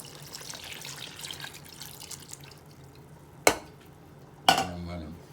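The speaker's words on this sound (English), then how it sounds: "Just stir it up" A spoon stirs adobo with added water in a Power XL pot, giving quiet wet swishing, then two sharp metallic clanks against the pot near the end.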